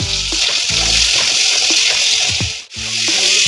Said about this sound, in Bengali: তো এটাকে আমি সুন্দর করে ভাজবো, মশলা দেবো।